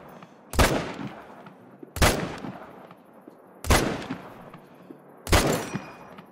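Four loud, booming rifle shots from a Smokin' Barrels weapon in theHunter: Call of the Wild, each followed by a short decaying echo and spaced well over a second apart, with no talking.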